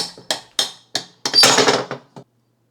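Gearing taken out of a Honda CR 125 engine: four sharp metallic knocks in a steady rhythm, then a longer scraping clatter and a last small tap, close and loud, with no talking.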